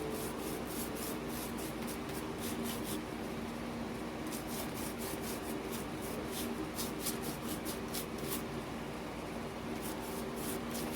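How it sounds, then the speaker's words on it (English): A brush applying a Mod Podge and glitter mixture onto Dollar Tree wall decor, giving a steady, faint rubbing and rasping stroke sound with rhythmic brushing pulses and no talking. "I have some glitter mixture that I have already mixed up together. It's just Mod Podge and glitter. And I'm going to paint over these."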